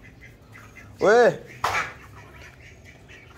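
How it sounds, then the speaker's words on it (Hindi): Ducks squawk and quack loudly in two close bursts, the first a rising harsh call, the second a shorter squawk, while a person shouts nearby and farmyard noise continues underneath. "वो डक्स को बंद करो, डक्स को बंद करो, उधर डक्स को मारो"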